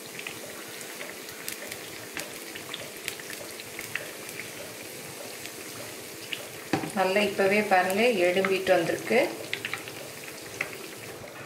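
Raw banana bajji fries in hot oil, a steady low crackle and sizzle throughout, with a voice talking briefly over it partway through.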